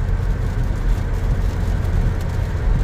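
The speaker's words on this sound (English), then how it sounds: "Oh, the Beltway traffic." Steady low rumble of highway traffic on the Beltway, a continuous broadband roar of passing vehicles with heavy low-end engine drone and no voices.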